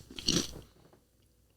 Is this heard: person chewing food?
yes